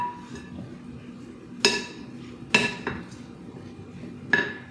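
Mexican street corn salad being mixed in a bowl: a few sharp utensil clinks against the bowl, spaced apart over a quiet background.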